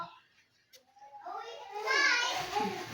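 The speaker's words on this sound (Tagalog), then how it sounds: "Kaya, madidinig yung mga boses ng mga bata naglalaro." Children playing and chattering outside on a street just beyond a house gate in the Philippines, their voices rising from faint to lively and fairly close.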